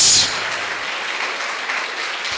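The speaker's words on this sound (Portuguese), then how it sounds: "Você pode aplaudir Jesus." A church congregation applauding at a Mother's Day service, a burst of clapping that starts loud and fades into a softer, sustained patter over about two seconds.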